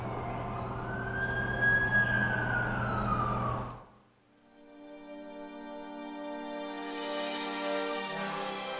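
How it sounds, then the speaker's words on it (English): An ambulance siren in The Amazing Spider-Man 2 video game wails in a rising and falling sweep, loud and close, cuts off abruptly midway, then gives way to a quieter tonal hum and faint noise. "That's the ambulance I called."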